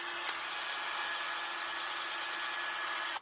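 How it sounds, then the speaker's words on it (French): A power drill whirs steadily inside a tap hole bored in a Manitoba maple trunk, clearing out sawdust residue; one continuous close, loud high-pitched run with a brief catch near the start, no talking. "je vais juste passer la perceuse là-dedans 2 ou 3 fois pour enlever les résidus"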